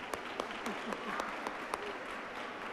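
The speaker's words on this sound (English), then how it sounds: "Let's give him a round of applause." A crowd at a state Capitol holiday tree lighting ceremony in Oregon claps steadily, a dense wash of hands with a few louder nearby claps, alongside faint murmuring.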